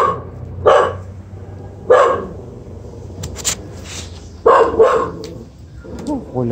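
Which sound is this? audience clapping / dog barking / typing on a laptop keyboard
dog barking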